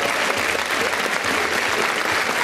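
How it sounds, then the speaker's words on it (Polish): An audience at a Gypsy-Slavic festival results announcement breaks into dense, sustained applause, loud and close, holding steady for the whole stretch. "Wielkie brawa!"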